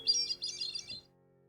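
A hermit thrush song played back from a recording of a bird in Portland, Maine in July: a brief, clear high fluted phrase of a few notes that fades out after about a second.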